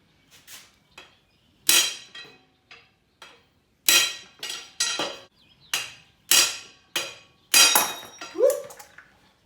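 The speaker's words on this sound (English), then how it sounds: "I've got a 40-ounce dead blow hammer I'm smacking this with." About a dozen sharp metallic strikes from a 40-ounce dead blow hammer on metal during a 2008 Dodge Ram 1500 differential rebuild, at uneven intervals, some loud and ringing, others lighter, with quiet gaps between them.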